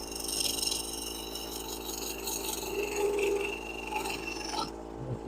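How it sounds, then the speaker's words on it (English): A bowl gouge cuts into the bottom of a wooden bowl spinning on a lathe, giving a steady, close, rasping scrape that holds evenly for several seconds before cutting off sharply near the end. "With the bowl gouge."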